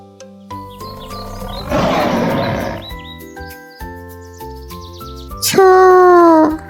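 A big-cat roar of a leopard, loud and sustained for about a second near the end, coming in after a stretch of bright children's music with a rushing swell in the middle.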